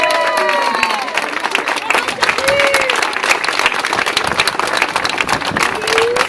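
An audience applauds Séverine at the opening of a bagpipe gathering, sustained dense clapping with some cheering, while bagpipe drones and tones sound faintly through the crowd noise.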